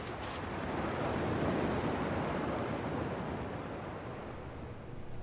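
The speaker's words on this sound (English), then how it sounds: "At least the waves sound the same." Ocean surf from the Kingdom Hearts 2 video game washes in as a steady, broad roar of breaking waves, fairly loud and continuous, swelling slightly then easing, with no voices over it.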